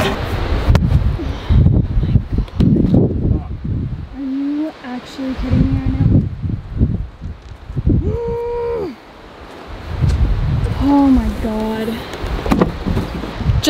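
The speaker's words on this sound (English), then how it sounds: "this is probably one of the windiest days we've ever had." Strong wind blows outdoors at an off-grid homestead, with loud continuous gusting buffeting the microphone throughout, and brief tonal sounds rising over the roar midway.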